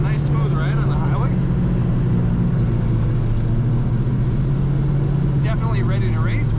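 A 1964 Plymouth Savoy cruises on the highway, its engine drone and road noise holding a steady, loud hum from start to finish, with brief chirping sounds near the start and end.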